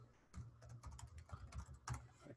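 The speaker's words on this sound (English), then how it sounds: "I'm typing a chat here" Typing on a computer keyboard during a live online office-hours stream, with quick irregular clusters of key clicks and taps close to the microphone and no talking.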